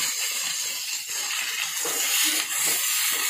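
Onion, garlic and curry leaves fry in a pan for a village-style spicy chicken kulambu, giving a steady, close, broadband sizzling hiss that holds throughout with slight swells and no talk.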